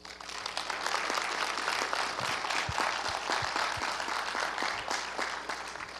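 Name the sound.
audience applauding city council candidates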